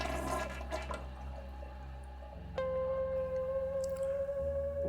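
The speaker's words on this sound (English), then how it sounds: "I go into the toilet, take out the medicine and flush it down the drain." A toilet flushes nearby with a rushing swirl of water that gives way to a steady hissing refill as the tank fills, with no talk.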